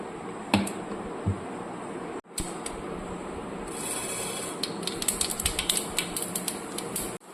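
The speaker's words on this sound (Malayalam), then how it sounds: "വെളിച്ചെണ്ണ ഒഴിച്ച് നമുക്ക് കടുക് വറക്കണം" Mustard seeds spluttering in hot coconut oil in a pan, a quiet stretch of crackle followed by rapid, sharp popping and sizzling bursts that grow denser near the end.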